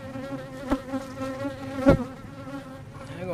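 Honeybees buzz steadily around an abandoned beehive, a close, continuous droning hum with individual bees zipping past the listener at moments.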